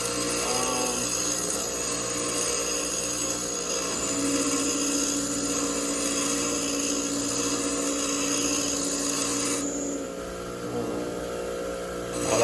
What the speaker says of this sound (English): Oh, that grinds away pretty quickly.